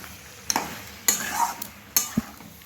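Chicken kosha with ghee and garam masala being mixed in a pan: three or four sharp spatula scrapes over a low background sizzle, close and fairly loud.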